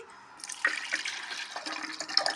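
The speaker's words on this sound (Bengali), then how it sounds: "এই যে আমি ঢেলে দিচ্ছি" Liquid for a drink is poured into a container, a short, soft trickle and splash with faint drips, close and quiet, with no talk.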